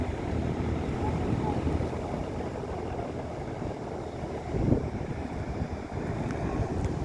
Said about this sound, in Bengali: মানে সাগর খেপে আছে